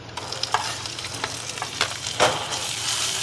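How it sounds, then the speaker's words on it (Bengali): Onion paste frying in hot oil in a pan for a catla fish curry, a loud continuous sizzle broken by repeated scraping strokes of a spatula as it is stirred. "পেঁয়াজ বাটা দিয়ে একটু নাড়াচাড়া করে নিলাম।"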